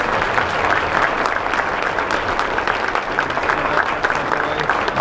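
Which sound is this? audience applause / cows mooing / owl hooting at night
audience applause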